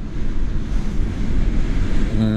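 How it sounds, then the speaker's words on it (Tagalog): Typhoon Marce's strong wind roars steadily in Santa Ana, buffeting the microphone in dense, continuous gusts, with a faint tonal hum rising near the end. "Ang lakas ng hangin."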